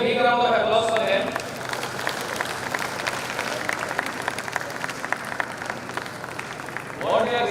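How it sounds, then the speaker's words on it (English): A convocation audience applauds graduates at an institute ceremony in Bhubaneswar, a steady wash of many hands clapping at moderate distance, following a speaking voice and ending as another voice resumes. "round of applause for them"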